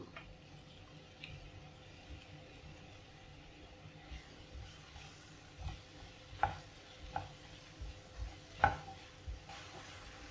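Ripe plantain sautés in ghee in a pan, with a faint sizzle underneath and several soft scraping stirs and taps of a utensil that grow more frequent toward the end.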